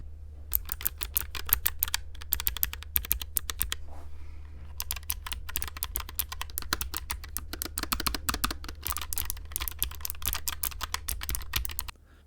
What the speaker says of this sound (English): My first low profile switch was the gaon Blue, and they are very clicky, as you can hear.